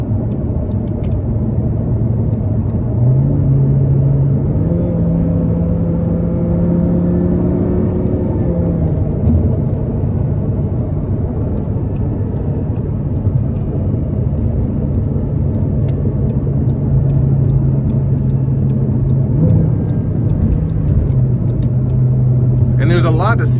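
A 2010 Audi R8 V10 Quattro engine drones steadily from inside the cabin while driving, a loud continuous low rumble with shifting tonal layers as revs rise and fall, and a brief sharper sound near the end.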